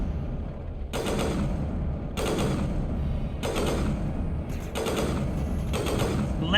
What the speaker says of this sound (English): My sniper shoots a lot of bullets.